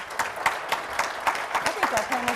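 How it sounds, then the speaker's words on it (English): Audience applause at a panel on U.S. city criminal justice reform, heard as steady, evenly spaced claps beneath a voice talking over it. "that just got a lot of applause"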